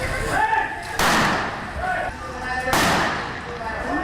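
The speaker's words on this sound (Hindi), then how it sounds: "उसने निशाना साधते हुए एक के बाद एक 2 गोलियां दागी।" Two sharp, loud pistol gunshots about two seconds apart, ringing out over people talking nearby in a market.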